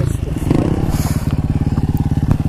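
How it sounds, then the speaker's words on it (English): A dirt bike engine revs hard on a dirt track as the rider pulls a wheelie, a loud, close, steady pulsing motor with rough throttle bursts, while voices are faintly heard. "do a wheelie?"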